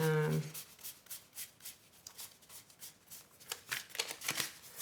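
Tarot cards are handled and shuffled in quick, papery riffles and rubs that run on steadily and close up, opening with a brief spoken bit.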